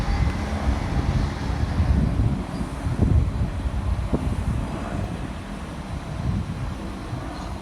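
Transport for Wales class 231 unit 231003 running into Cardiff Central on a Barry Island to Lumley service, a low, steady rumble of the train mixed with heavy wind buffeting on the microphone outdoors on the platform.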